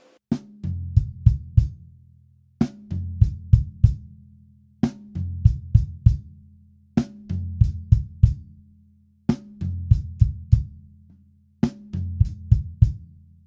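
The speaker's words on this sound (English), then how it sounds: "16th notes on the hi-hat and the bass drum simultaneously" A short drum pattern played six times over, rapid hi-hat and bass drum strokes hitting together in quick bursts with brief pauses between repeats.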